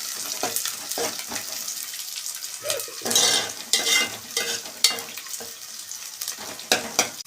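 Green chillies sizzling and frying in a pan while being stirred, a steady crackling hiss broken by scraping stirs and brief louder bursts, close and alone.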